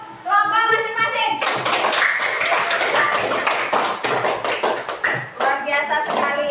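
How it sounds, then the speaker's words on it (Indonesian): A group of children clap together for their classroom groups in a school activity on recycling, a dense, loud burst of many small hands, with brief children's voices at the start and near the end. "Kasih tepuk tangan untuk kelompok masing-masing."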